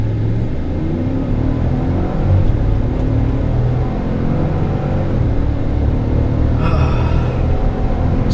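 A 2015 GMC Yukon Denali XL 4WD with 8-speed automatic launches hard with traction control off, its engine a steady, loud low rumble with rising whir throughout, heard from inside the cabin.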